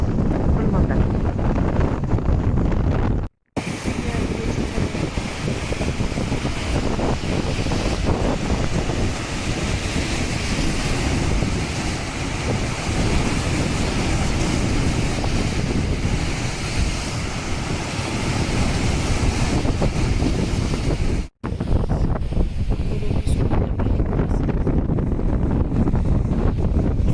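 Sea waves wash onto a beach under strong wind buffeting the microphone, a loud, continuous roar with brief cuts and a voice speaking at times.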